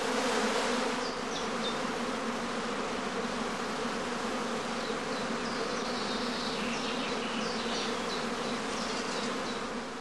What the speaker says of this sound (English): In a large home apiary like this one, several swarms may emerge almost simultaneously.